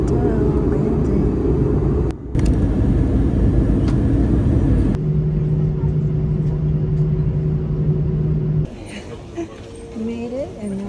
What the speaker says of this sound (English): We are over Bordeaux, landing.